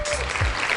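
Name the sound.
applause, hand clapping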